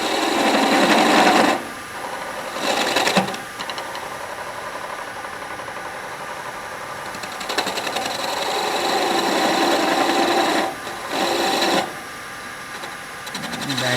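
A wood lathe spins steadily as a honey dipper is cut and beveled, its hum interrupted by several brief dips and scraping swells from the tool, close and fairly loud throughout.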